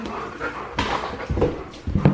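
A dog whimpers and whines in short bursts with quick panting breaths between, close by and fairly soft.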